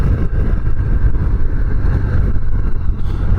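A preowned 2023 Harley-Davidson Softail Heritage motorcycle rumbles along on a ride, its engine a steady, loud, low drone with rushing wind, and no talking.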